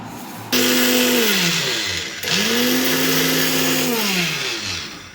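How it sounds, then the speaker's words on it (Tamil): A mixer grinder whirs up loudly as it grinds spices for a mutton dish, running in two bursts with a brief pause between them and a rising then falling motor whine, close and with no voices. "இதை வந்து மிக்சியில் போட்டு இப்போ நம்ம அரைக்க போகிறோம்"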